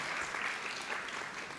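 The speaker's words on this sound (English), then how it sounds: "a round of applause for the adjudicators." An audience at a public sector debate competition grand final claps steadily for the adjudicators, a dense, even patter of applause heard from within the hall.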